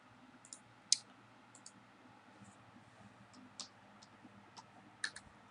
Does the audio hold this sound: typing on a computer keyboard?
yes